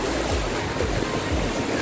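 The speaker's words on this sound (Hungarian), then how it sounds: "Hát ez a hullámmedence, ez jóval nagyobb, mint a budapesti ilyen akvaparkokban" Generated waves roll through a large water park wave pool in Tel Aviv, a steady, close and loud wash of churning water with some wind noise on the microphone and no talking.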